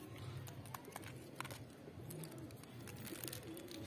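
Pigeons coo softly and continuously in the distance, mixed with faint outdoor background noise.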